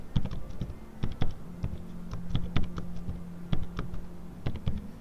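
Irregular clicking keystrokes on a computer keyboard as a name is typed, close and clear, with a steady low hum running beneath.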